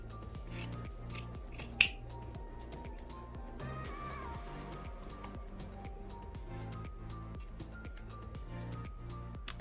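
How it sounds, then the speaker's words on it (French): Scissors trimming excess fabric from the bottom of a bag pocket along a curved edge, a steady series of rhythmic snipping cuts, close and clear over a faint steady hum. "On va venir maintenant découper le bas de la poche, son excédent, en suivant la courbe de la pièce A."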